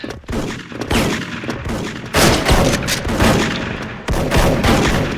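Gunfire in the Special Force online shooter during a sniper-mode match: loud, dense shots come in close overlapping bursts, with heavy blasts at about two and four seconds, and no voices.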